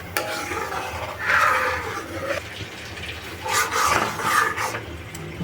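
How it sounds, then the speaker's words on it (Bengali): Soaked flattened rice (chira) is stirred into milk, giving soft wet swishing and scraping sounds in two longer bursts, close and moderately loud with no talk. "এবার চিড়েটা দুধের সাথে ভালো করে মিশিয়ে নেব।"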